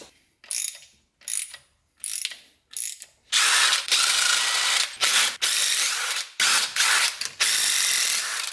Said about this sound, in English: Tiny little pipe wrench for the win. These bolts must have some serious Loctite on them too.